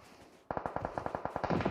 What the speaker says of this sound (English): The gunfire is happening as Baja will get Brian from Todak.